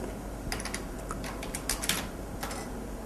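Someone types quickly on a computer keyboard, a quiet run of irregular close key clicks with small bursts and short pauses, alone without talk.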